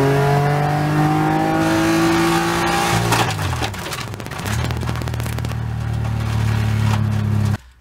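A WRL endurance race car engine with a loose wrist pin works its way out: a loud, steady high-revving drone abruptly turns rough and clattering partway through, then settles into a strained hum before cutting off.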